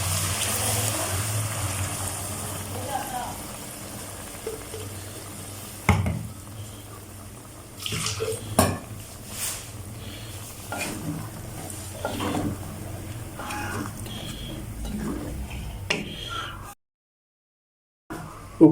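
Tomato paste going into a pan of potato curry sizzles steadily, with scraping stirs and a few sharp clanks of a spoon against the pan, close and fairly loud, before it cuts to silence near the end.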